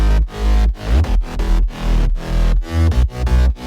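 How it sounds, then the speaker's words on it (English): A progressive house bass line with pitch-bend automation, loud and up front: deep bass notes pulse in short rhythmic bursts with gaps between them, and each note swoops in pitch, over about four seconds without any voice. "So I've created this pitch bend and it sounds like this."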